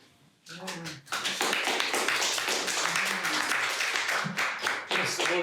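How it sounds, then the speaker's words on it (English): Welcoming applause from a small studio audience starts after a short pause and builds into steady clapping close by, with a few isolated claps tapering toward the end. "That's the most hesitant, welcoming clap I've"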